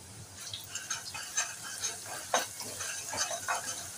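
Onion frying in a pan with a pinch of salt, a soft continuous sizzle with faint scraping stirs and small crackles, moderately quiet and close, no talking.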